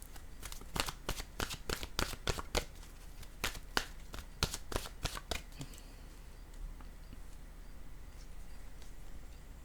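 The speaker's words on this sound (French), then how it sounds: "Maintenant, je vais piger une carte de mon oracle de l'âme intuitive." Oracle cards being shuffled and drawn: a rapid run of crisp, close riffling flicks and card snaps in quick bursts, then quieter handling over a soft room hiss, with no talk.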